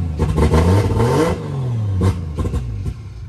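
Nissan 350Z drift car running cold on alcohol fuel, revved hard several times in neutral, with sharp rising and falling engine sweeps, loud and close, between short idle pauses.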